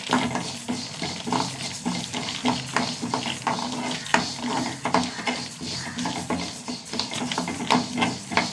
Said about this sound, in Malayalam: മുതിരൊന്ന് വറുത്തെടുക്കട്ടെ